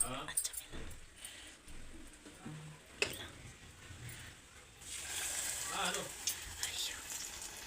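Mysore bonda batter dropped by hand into hot oil, frying with a soft crackle that swells into a steady, bright sizzle partway through, along with a few faint clicks and handling noises.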